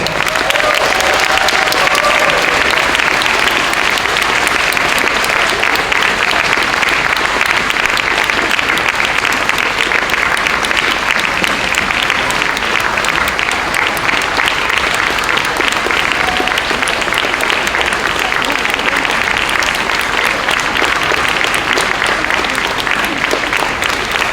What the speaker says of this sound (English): we are going to begin our applause right now